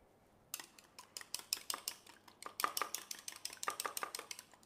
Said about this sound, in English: Get my little whisk.